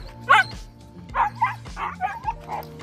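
A dog barks and yips in short excited bursts during prey drive training, the first bark loudest and several quicker ones following, close by over a low steady hum.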